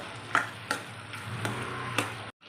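Mashed tomatoes fry with turmeric and garam masala for a tomato gojju, making a soft, quiet sizzle with a few distinct spoon clacks against the pan and a brief silence near the end.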